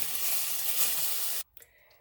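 Garlic and ground beef sizzle loudly in a pan as they are stirred and broken up for Filipino picadillo, a dense steady hiss that cuts off sharply, followed by a few faint clinks.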